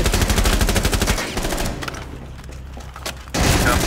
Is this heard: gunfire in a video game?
yes